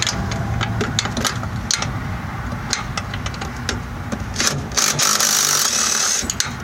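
Tools work on bolts of a Corvette C5 rear suspension, a continuous close mechanical whirring and rattling with scattered metallic clicks and a louder, harsher burst near the end.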